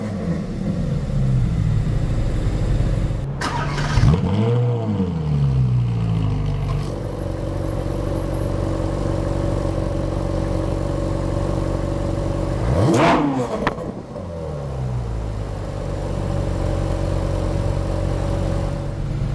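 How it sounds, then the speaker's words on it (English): Ferrari 458 Italia V8 starting up: a loud crank and sharp flare of revs, settling into a steady idle rumble, then a second quick blip of the throttle rising and falling before returning to idle. "Fantastic engine note."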